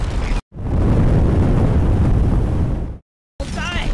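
In the video game Deep Rock Galactic, meteor fragments crash down in one sustained, loud, roaring rumble like a heavy blast that lasts a few seconds, framed by abrupt cuts of silence, with brief game sounds at either end.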